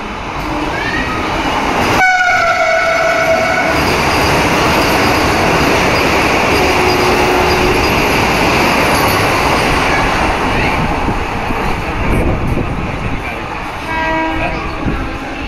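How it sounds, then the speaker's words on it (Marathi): A Vande Bharat train speeds past close by in rain, a loud sustained roar of wheels and carriages with a horn blast early on and brief squeals toward the end. "स्पीड बघा वंदे भारतची."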